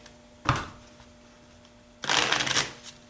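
Magic: The Gathering cards get a quick riffle, then a longer, louder burst of fluttering as a butterfly bridge cascades the deck back together, close and clear with no talk.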